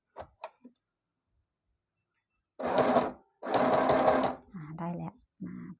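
A sewing machine zigzag stitches a narrowly folded fabric hem without an overlock machine, two short bursts of rapid whirring separated by a pause, with a few light clicks before and after.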